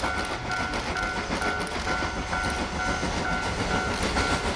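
A toy train running, with steady rail-like clickety-clack and a regular pulsing tone. The sound is continuous and moderately loud throughout, with no talk.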